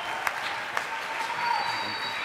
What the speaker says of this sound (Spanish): Un fuerte aplauso, por favor, para José Raúl Helada.